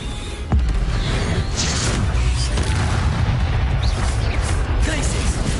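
Booming spell blasts from a Harry Potter video game's Confringo fire curse, a loud sustained rumble with a sharp burst near the start and continuing crackling explosions.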